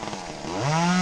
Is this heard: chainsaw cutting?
yes